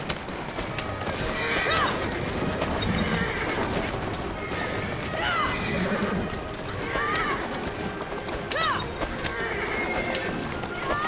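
A horse in Assassin's Creed Syndicate gallops and neighs during a street race, repeated whinnies rising over steady clip-clopping hooves and game ambience, with several neighs spread across the stretch.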